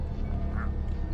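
A rubber duck in the indie game Anatidaephobia gives a single short quack over a low, droning game background.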